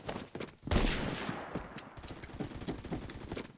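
Dense gunfire from the Roblox first-person shooter Phantom Forces, a loud burst of shots and bullet impacts up front easing into continuous scattered firing in the background.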